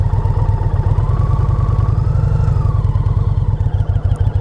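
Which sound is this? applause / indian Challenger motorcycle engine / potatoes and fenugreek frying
indian Challenger motorcycle engine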